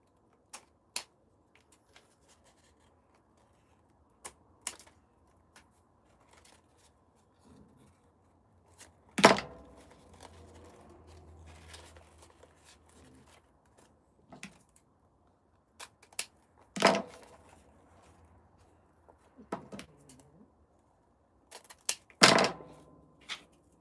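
Scissors trim the ribbon tails on an Easter cross wreath, heard as a few sparse, sharp snips spread out over a quiet stretch, close by, with no talking.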